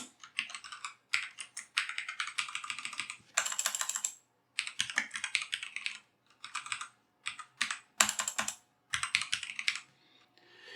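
Quick bursts of typing on a computer keyboard while writing C code, crisp close key clicks in clustered runs separated by short silences, with a few sharper keystrokes standing out.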